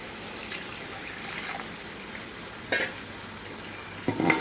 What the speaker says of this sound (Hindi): इसमें मैं थोड़ा सा पानी डाल देती हूँ ताकि ये